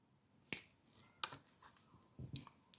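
Beading wire is cut with small cutters while making wire-wrapped jewelry: a few sharp, quiet snips spaced about a second apart, close up with faint handling noise between them.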